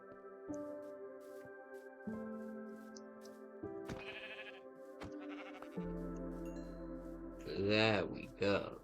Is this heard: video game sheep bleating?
yes